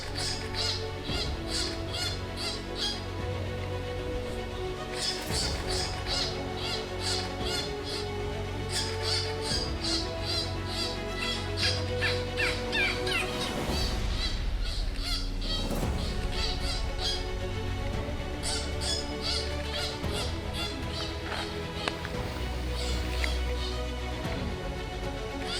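A bird squawks repeatedly while harassing an injured bat on bare ground, harsh calls in bursts over a constant background hum.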